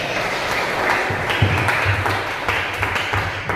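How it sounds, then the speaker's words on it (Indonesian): Scattered applause from a small group of eighth-grade students in a classroom, uneven claps pattering along for a few seconds with some background murmur. "Tepukan dulu dong buat kalian semua."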